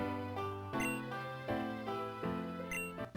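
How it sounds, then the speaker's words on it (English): A Repel is sprayed in the Pokemon game Pokemon Unbound, as a series of bright chiming jingle notes that rise and repeat in short steps over about three seconds, clear and alone. "Let's go ahead and spray a Repel."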